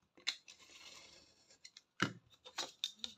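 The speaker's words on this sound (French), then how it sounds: "couper du papier, vous savez le faire" Scissors snip through paper for a pop-up card, a few short crisp cuts with soft rustling between them, close and quiet.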